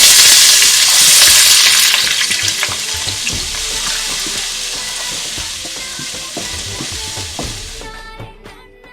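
Onions frying in hot oil with black cumin (shah jeera), a loud, steady sizzle and crackle with stirring clatter throughout, fading near the end.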